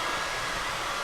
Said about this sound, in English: Then I'm going to take the blow dryer